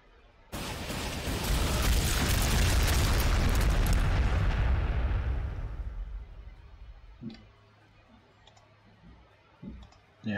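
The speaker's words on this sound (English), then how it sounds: "I guess I'll just drop artillery on them" Artillery strike in Warhammer 40,000: Sanctus Reach, a loud rumbling explosion barrage that erupts suddenly, roars for several seconds, then fades, followed by a few faint distant pops and clicks.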